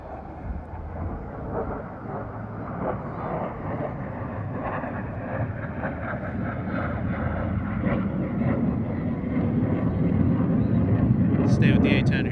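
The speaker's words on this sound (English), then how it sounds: "Here comes the F-16s right above us again" F-16 fighter jets roar overhead at the Great Texas Airshow in San Antonio, a broad, rushing jet rumble that builds steadily louder over several seconds, with wind buffeting the microphone and a crowd murmuring beneath.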